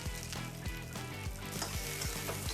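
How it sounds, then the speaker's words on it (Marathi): Okra frying in oil in a pan for masala bhendi, with a loud, steady sizzle over repeated low scraping stirs, close up and without any voices. "तेलामध्ये आपण भेंडी परतून घेत आहे."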